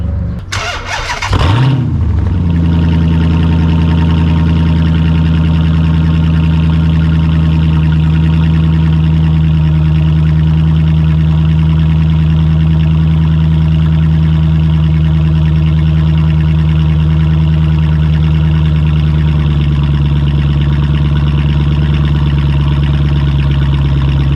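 A 2006 Dodge Magnum engine with exhaust removed after the catalytic converters cranks and catches, then settles into a loud, steady, raw idle with a deep droning hum that continues unbroken.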